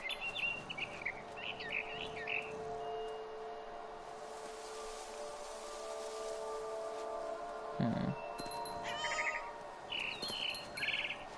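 A frightened bird in What Remains of Edith Finch gives repeated short bursts of chirps and tweets over a soft steady ambient hum, with a brief low thump partway through.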